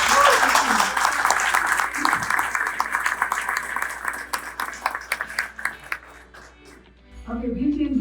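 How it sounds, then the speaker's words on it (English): A crowd applauds travel partners at a large Turkish Airlines iftar event, dense clapping loud at first, thinning and fading toward the end before a voice resumes. "let's all honor our travel partners with a huge round of applause"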